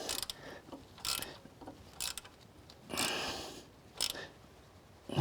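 A ratchet tightens the rear bolt on a hydraulic pump adjuster in short clicking bursts about once a second, close by and fairly quiet, with no talk.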